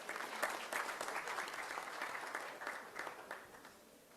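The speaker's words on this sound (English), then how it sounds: "A round of applause, please." An audience at a university gathering bursts into sustained applause, dense clapping held at a steady level for several seconds with no voices over it.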